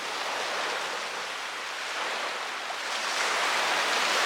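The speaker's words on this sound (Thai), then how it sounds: "ไม่มีคนเลย เงียบมาก เสียงคลื่น" Sea waves wash steadily onto a quiet, empty beach on Koh Lipe, a broad continuous surf roar with gentle swells in loudness and no voices.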